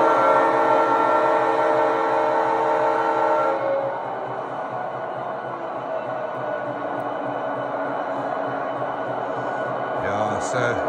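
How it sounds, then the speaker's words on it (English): A steady, loud chord of model locomotive air horns sounds for a few seconds, then gives way to a rumbling, hissing locomotive noise that continues, from a 35GM model locomotive. "there's the air horns."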